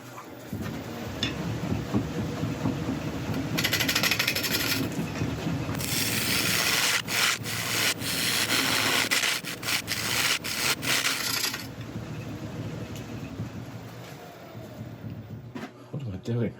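A carbide lathe tool cuts a spinning yellowheart wood cookie with rough, scraping rasps that swell in loud bursts and then fade, over a steady lathe hum, with speech at times.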